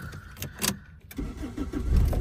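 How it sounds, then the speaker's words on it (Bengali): A Toyota AE100 1500cc sedan's engine cranks and catches on the first try, with a few sharp turning-over bursts before it settles into a rising idle, recorded close up. "এক টোকে স্টার্ট, ট্রেনের থেকে গ্যাসে চলে গেল"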